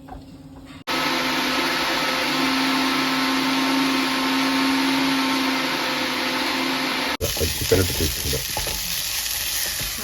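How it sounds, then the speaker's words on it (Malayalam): An electric mixer grinder whirs steadily at full power as it grinds whole black pepper and coriander seeds, a loud continuous buzzing drone that runs for several seconds, then cuts off abruptly and leaves quieter clatter behind. "നമുക്കിത് മിക്സിയിൽ അടിച്ചെടുക്കാം"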